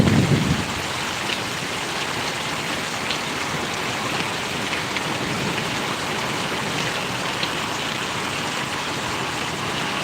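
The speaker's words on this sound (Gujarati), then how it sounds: "સરસ મજાનો વરસાદ અત્યારે વરસી રહ્યો છે" Rain falls steadily in Paravadi village in Gariyadhar taluka, a dense, even hiss of drops on surfaces that holds unbroken throughout.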